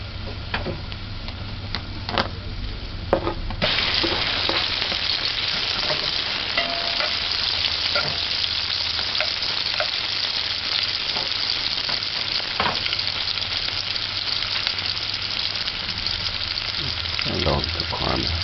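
Onions frying and caramelizing in a pan, a loud, continuous sizzle close up with occasional sharp clicks and spatula touches, unbroken for the whole stretch, no talking.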